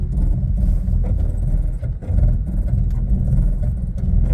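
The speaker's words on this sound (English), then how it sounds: "Let's go up another hill and we'll go down it again with crawl control." A Lexus GX460 SUV creeps up a hill in crawl control, a loud continuous low engine and drivetrain rumble heard from inside the cabin with slight surges, no talking.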